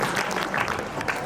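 Audience applause at the 57th annual festival of a Sanskrit gurukul school in Hisar, Haryana, a brief burst of crowd clapping heard at moderate distance, with no voices over it.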